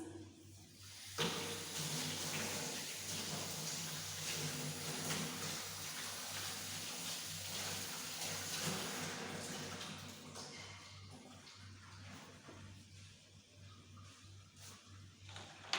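Tap water runs steadily in a kitchen sink while hands are washed under it, making a continuous soft hiss and splash that starts abruptly and then tapers off near the end, with no talk.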